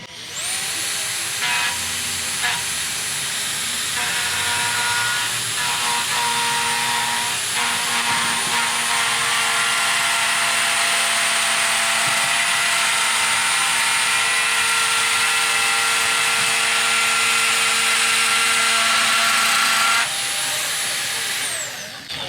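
A Metabo power tool whines loud and continuous as it is pushed in a smooth pass across the face of a metal plate, holding a steady pitch for about twenty seconds before spinning down.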